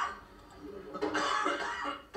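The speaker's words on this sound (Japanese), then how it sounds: "激しい咳に悩まされます。" A person with lung cancer that has spread to the lungs lets out a harsh burst of coughing, close and strained, with a short throat-clearing rasp trailing at the end.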